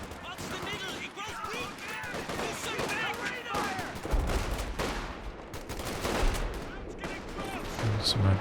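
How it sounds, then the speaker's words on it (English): Artillery firing in the real-time strategy game Company of Heroes 2 during a 3v3 match, dense gunfire and explosions rumbling continuously under a commentator's voice, heavier booms in the second half. "Some artillery."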